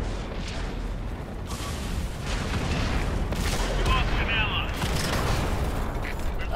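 World of Tanks artillery and gunfire rumble steadily, a dense barrage of booms and cracks under a voice speaking throughout.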